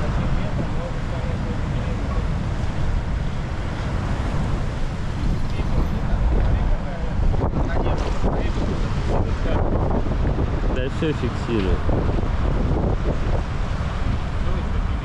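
Strong wind roars steadily into the microphone throughout, with water washing in the background and a voice briefly heard, at a waterside fire while fishing in Astrakhan.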